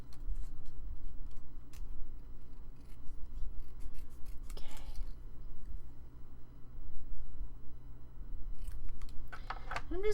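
Small scissors snipping paper for a junk journal, a string of quick crisp cuts in bursts with short pauses, close up over a low steady background hum, no talking.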